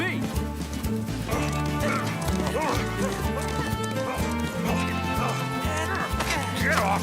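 Galloping horses in a Zorro cartoon, with a rhythmic hoofbeat-like pattern running steadily under a dense music score throughout.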